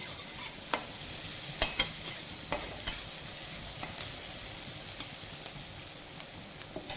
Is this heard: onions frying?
yes